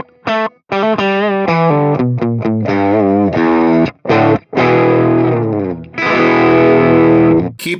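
A Flatsons KE1 guitar amp set to its Mesa Boogie V preset, heavily distorted electric guitar playing a choppy phrase of short stabs and sustained notes, loud and close, with brief gaps between bursts.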